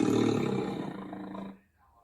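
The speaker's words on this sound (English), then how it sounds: "This is a tiger." A tiger roar played through a Google smart speaker at home, one loud, drawn-out growling roar that fades and cuts off after about a second and a half, leaving near silence.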